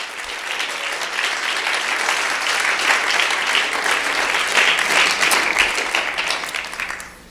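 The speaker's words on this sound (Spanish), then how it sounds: "Fuerte el aplauso, con ganas." Church audience breaking into loud, sustained applause, a dense wash of clapping that holds steady for several seconds before tapering off at the end.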